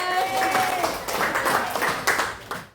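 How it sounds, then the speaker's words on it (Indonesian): Sixth-grade students clapping in a classroom, a loud burst of mixed hands with some sustained tonal sound fading early, the clapping tapering off near the end. "tepuk tangan buat semuanya"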